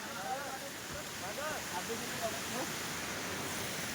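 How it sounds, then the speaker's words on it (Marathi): Small waterfalls on Brahmagiri mountain make a steady, broad rushing wash of water throughout, with a voice talking over it. "अनेक असे छोटे छोटे धबधबे या ब्रह्मगिरी पर्वतावरती पाहायला मिळत आहेत"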